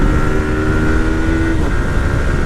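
A Yamaha R15M motorcycle with a quick shifter being ridden, its engine droning loudly and steadily with wind rush, a tonal whine shifting briefly near the middle as a gear changes.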